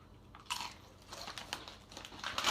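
Nacho cheese Doritos chips from a freshly opened bag bitten and crunched up close, with several loud crisp crunches spread across a couple of seconds and no talking.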